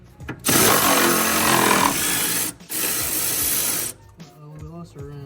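An impact wrench breaks loose a stuck sway bar nut on the suspension of a supercharged Nissan 370Z, with two loud, close bursts of rattling hammering separated by a brief pause, followed by quieter voices.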